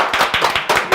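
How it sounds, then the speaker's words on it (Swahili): A brief burst of audience applause, a handful of sharp, close hand claps in an uneven rhythm lasting about a second. "Tũmaũrĩre makofi."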